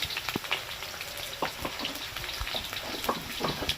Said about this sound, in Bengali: আলুগুলো তুলে নিয়েছি ভেজে, এবার ওই তেলের মধ্যে দিয়েছি পেঁয়াজ কুচি